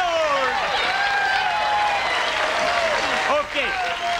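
An audience applauds steadily and loudly while someone speaks over the clapping, the applause dipping briefly near the end.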